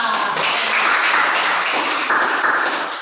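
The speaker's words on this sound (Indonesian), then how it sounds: "Tepuk tangan dulu untuk Greva." Students in a classroom clap for a classmate, a dense burst of applause that holds steady for about three seconds and then begins to fade.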